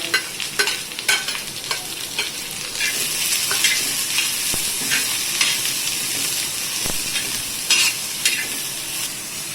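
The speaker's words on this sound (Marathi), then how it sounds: "आता अगोदर आपण तव्यावरती हा कांदा छान लालसर होऊनपर्यंत भाजून घेऊया" Steady sizzling of onions frying on a hot griddle, with intermittent scraping and stirring clicks throughout; close and fairly loud, no talking.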